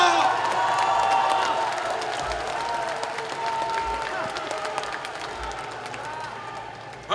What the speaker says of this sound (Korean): 여러분, 동의하시면 박수 한번 보내주시기 바랍니다.